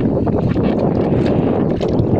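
Steady roar of strong wind buffeting the microphone at sea off Aklan, with rushing noise from water around a boat, continuous and loud throughout.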